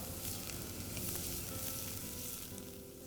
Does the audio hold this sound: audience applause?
no